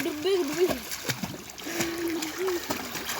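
A small boy splashes in water during a swim lesson, kept afloat by two bottles, with irregular close splashes and sloshing under people talking nearby.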